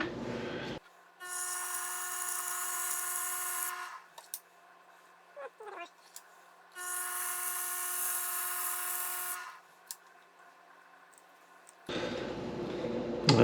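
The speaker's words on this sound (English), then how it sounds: "we're just going to do a little bit of sanding" Power-sanding a skateboard inlay ring, with two long loud high-pitched whirring runs of a spinning tool separated by pauses with small clicks and handling sounds.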